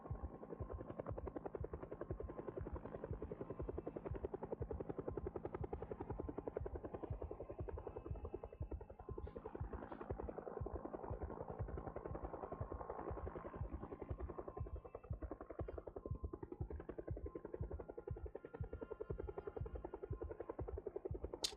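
A helicopter flying overhead in the video game Project Zomboid, a continuous rapid rotor chop with a low throbbing drone, steady and fairly distant, with no voices.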